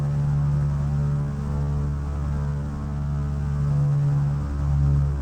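The twin engines of a Piper Seneca are held near 1900 RPM during a pre-flight run-up, giving a steady, close droning hum with a strong tonal buzz and only slight swells in level, with no talking.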